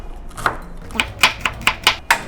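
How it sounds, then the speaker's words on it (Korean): A knife chops green onions on a cutting board, with about eight sharp, distinct knocks at an irregular pace, close and crisp against a quiet background. "파기름을 조금 내줄 건데 파를 한번 썰어 볼게요"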